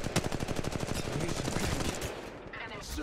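Rapid automatic gunfire in Apex Legends Mobile, a dense, steady string of evenly spaced shots for about two seconds, then a tailing-off with fainter noise and a hint of voice.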